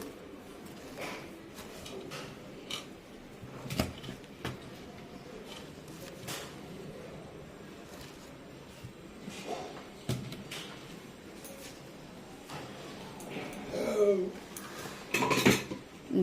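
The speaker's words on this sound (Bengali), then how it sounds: "এবার এটাকে আমি বাটবো ভালো করে" Thankuni (Asiatic pennywort) leaves being ground into paste by hand, with soft scraping and scattered knocks and clinks of stone or utensils, louder bursts toward the end, no talk.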